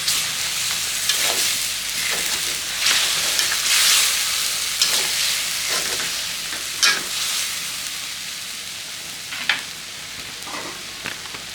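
Liver being stir-fried in a hot pan with sugar and salt for a curry-powder stir-fry: a steady broad sizzle runs throughout, broken by repeated scraping strokes of a spatula at an irregular pace, close and fairly loud, with no talking.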